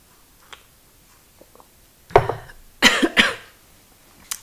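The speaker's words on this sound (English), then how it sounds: "I have like a cough, and it's because I've been standing outside in the cold" A person with a cold coughs several times in close, loud bursts, a couple of rough hacks in quick succession after faint small ticks and clicks in a quiet room.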